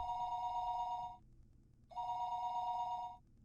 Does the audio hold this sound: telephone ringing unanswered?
yes